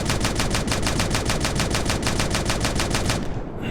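Rapid automatic weapon fire with exploding impacts from a self-made video game, a loud, unbroken stream of evenly spaced shots running continuously before cutting off abruptly.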